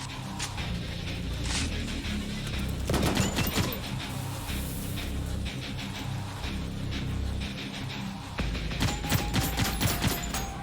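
Gunfire from a first-person shooter video game rattles in dense, rapid volleys, loud and near, over a busy background of in-game noise with brief lulls between bursts.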